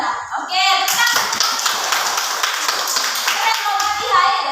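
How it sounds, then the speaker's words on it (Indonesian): Elementary school children in a classroom clap in a sustained, lively burst of many hands at close range, with a voice briefly heard at the start. "tepuk tangan"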